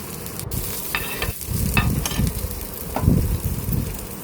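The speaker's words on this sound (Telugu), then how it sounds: "ఈ ఆనియన్స్ గోల్డెన్ బ్రౌన్ కలర్ వచ్చే వరకు బాగా ఫ్రై చేసుకోవాలి" Onions and cumin frying in oil in a pan, a steady close sizzle with scrapes from stirring throughout, no voices.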